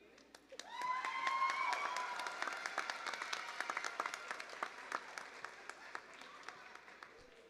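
Applause at a graduation ceremony rises quickly after a speech and fills the hall with many hands, then gradually thins toward scattered individual claps, with some voices faintly mixed in.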